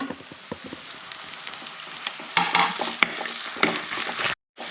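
Crushed onion and ginger sauté in hot oil with a close, steady sizzle. Stirring scrapes and knocks are scattered through it, the frying grows louder partway through, and there is a brief silent gap near the end.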